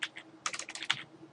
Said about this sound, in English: I don't know why I'm having a tough time typing here.